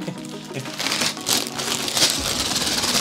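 Plastic bags crinkle and rustle steadily up close as they are handled and tossed aside while a lighthouse building set is being put together, with no talking.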